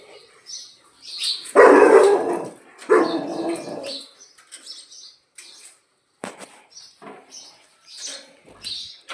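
A mother dog with puppies barks in loud, sharp bursts, several barks spread irregularly with quiet gaps between, close by.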